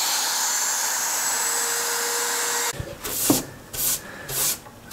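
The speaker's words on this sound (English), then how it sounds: "take some sandpaper and clean off the fuzzies" A router's steady whine cutting a dado in plywood gives way to short, close rubbing strokes of sandpaper cleaning the cut, four or five quick passes with no talk.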